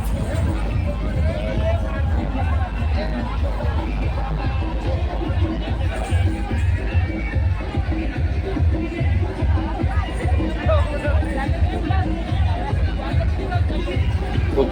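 A dense crowd mills at a village yatra procession, Bhojaji Maharaj Yatra in Aajansara, with continuous loud babble of many voices and steady movement noise throughout.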